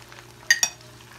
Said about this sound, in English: We're just gonna let them fry up.